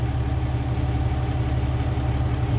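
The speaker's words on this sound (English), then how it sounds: "You shut this truck off, this truck is loud." A truck engine idles loudly and steadily nearby, a continuous low rumble with even vibration and no talking over it.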